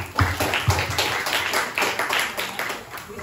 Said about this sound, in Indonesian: Ya, boleh tepuk tangan terlebih dahulu.